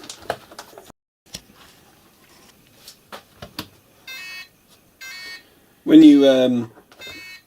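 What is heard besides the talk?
radio transmitter beeping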